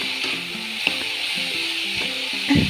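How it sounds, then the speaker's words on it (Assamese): Chopped banana flower sizzles steadily in a hot pan while a spatula scrapes and stirs it in a few repeated strokes, close and continuous with no talking. "তাৰপিছত মই কলফুলখিনি ঢালি দি কিছু সময় এনেকৈ লৰাই থাকিম।"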